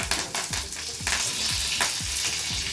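Mustard seeds, cumin and curry leaves sizzle in hot oil, a steady crackling fry broken by a quick series of sharp spits and pops, close and fairly loud.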